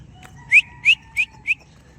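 A person whistles four short, rising chirps in quick succession, imitating a martin's call, over a faint background hum.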